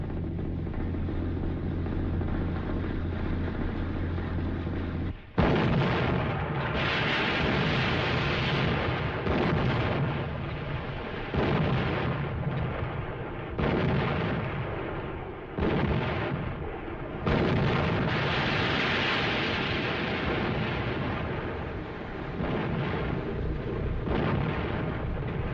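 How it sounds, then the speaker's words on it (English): Artillery guns fire in heavy repeated bursts, loud booming blasts and rumbling explosions following one another in an irregular barrage with no voices. "Stand by to commence firing."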